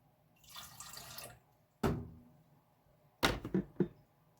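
Three tablespoons of water go into pretzel dough: a soft splashy pour, then two sharp separate splashes and drips, close and quiet against near silence, no voices.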